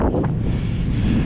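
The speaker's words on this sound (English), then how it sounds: "Wind." Steady roaring wind buffets the microphone outdoors, loud and continuous with deep rumbling throughout.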